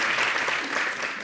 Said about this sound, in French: on va applaudir pour l'encourager